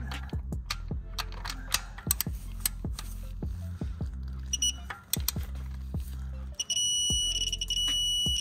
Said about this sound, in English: Hear the beep.